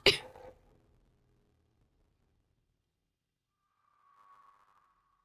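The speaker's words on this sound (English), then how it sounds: "I was trying to hold in a sneeze." A stifled sneeze from someone playing the game 7 Days to Die, one short muffled burst right at the start that fades quickly into near silence. A faint, steady electronic tone follows later.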